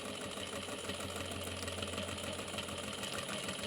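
A sewing machine runs steadily while back stitching along the edge of a crossbody bag. It gives a close, even motor hum with a fast rhythmic needle chatter throughout, and nobody speaks.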